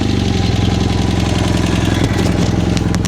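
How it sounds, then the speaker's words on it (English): A BMW F800GS motorcycle with a loud aftermarket exhaust idles close by, a steady throbbing, pulsing rumble that holds evenly throughout. "I am very aware of the exhaust at the minute."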